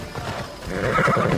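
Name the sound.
horse whinnying and hooves in video game Assassin's Creed Odyssey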